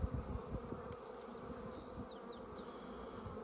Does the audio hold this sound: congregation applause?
no